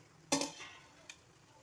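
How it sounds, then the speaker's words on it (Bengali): Rice tipped into a pot of cooked chicken for dum biryani, a sudden loud scraping pour with a short rustle, followed by one smaller clink about a second later. "এখন আমি রাইসগুলো তাতে দিয়ে দিচ্ছি।"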